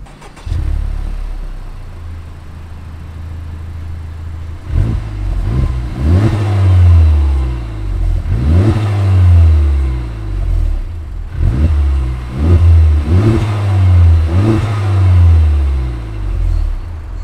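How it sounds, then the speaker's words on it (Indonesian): A Honda Civic Type R FK8 engine idles with a low rumble, then the exhaust revs up repeatedly in loud rising bursts, each dropping back to a growling idle. "itu tadi suara knalpotnya"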